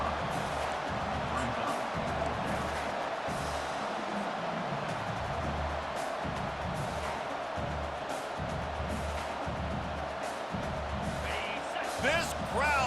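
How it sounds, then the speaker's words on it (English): Dense, roaring stadium crowd noise in EA Sports College Football 25, a constant loud wash of voices pushing for a fourth-down stop, with commentary talk layered over it. "This crowd busting the decibel meter and trying to will a 4th down stop"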